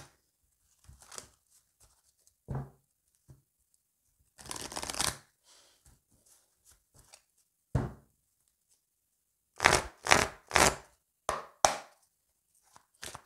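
Tarot cards being shuffled for a reading: bursts of riffling and slapping come in irregular clusters, with a long riffle near the middle and a quick run of sharp card snaps toward the end, close and clear with no talking.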